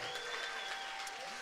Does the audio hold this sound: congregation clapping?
yes